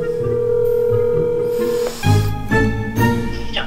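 An outgoing phone call gives a steady, unbroken ringing tone for about two seconds. Louder, fuller sounds follow that could be music or voices.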